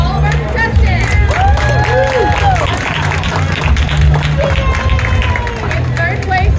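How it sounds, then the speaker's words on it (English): A crowd at a noodle-eating championship claps and cheers for the contestants, a loud, sustained roar of applause and whoops with voices talking over the noise. "Big round of applause for all of our contestants."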